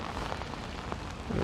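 Steady rain falls outdoors on an umbrella and pavement in Etobicoke, Toronto, a dense close patter with a few heavier drops, heard alone.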